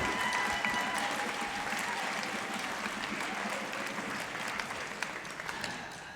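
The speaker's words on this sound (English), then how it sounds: "Let's have one more round of applause for our senior class." High school spring concert audience applauding the senior class, sustained crowd clapping with scattered cheers and a few murmured voices, gradually tapering slightly toward the end.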